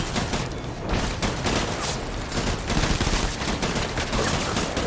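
Rapid, dense gunfire rattles through a firefight in Death Stranding, a loud near fusillade of overlapping shots and mechanical clatter sustained across the whole moment.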